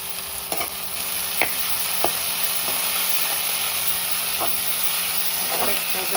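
Tomato, onion and ginger fry in a pan for egg fried rice, giving a steady close hiss and sizzle broken by a few sharp taps and scrapes of the stirring spoon.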